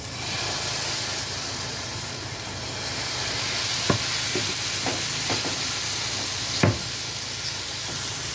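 Millet uttappa batter hitting an oiled hot pan, giving a steady broad sizzle and hiss throughout with a few soft clicks and taps from a utensil, close and fairly loud.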